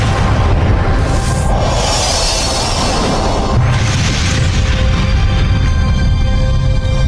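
A supernova explosion boom sound effect rolls as a loud, sustained deep rumble with two swelling surges of hissing blast that fade back into a continuous roar.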